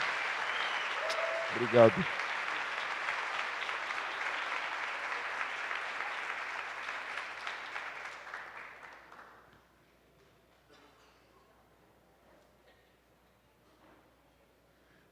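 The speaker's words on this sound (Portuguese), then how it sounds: "que você aplauda Jesus pela vida de todos os voluntários" A church congregation applauds at a family celebration service, a broad, steady wash of clapping that holds for about eight seconds, then fades out into near silence; a brief spoken word cuts in near the start.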